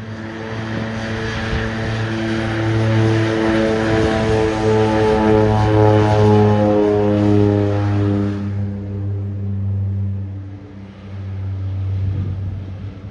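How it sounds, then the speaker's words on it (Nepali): A propeller airplane roars loudly as it takes off from Jomsom airport in the mountains, a steady droning engine hum that swells and then gradually recedes into the distance. "अब प्लेन उड्न लागिसकेको छ"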